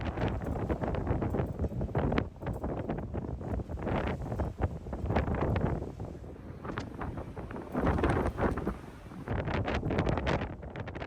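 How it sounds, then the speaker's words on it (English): Strong wind buffets the microphone in loud, rough gusts that rise and fall, with no talking, aboard a ship approaching the port of Calais. "you'll see it's wild and windy here"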